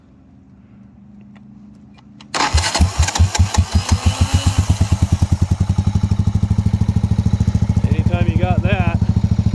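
Buell motorcycle engine starting: a brief starter whir, then the engine catches into a loud, fast, even idle thump that keeps running, with a few words spoken over it.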